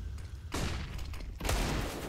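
Gunfire rings out in a professional CS:GO esports match on the Ancient map, two sharp, loud bursts of shots about a second apart, each cracking sharply and then tailing off against game ambience.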